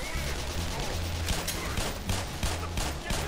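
Gunfire aimed at military grunts in the video game Black Mesa, a rapid string of sharp shots over a steady low rumble, with a voice talking underneath.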